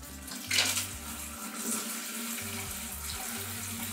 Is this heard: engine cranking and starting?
no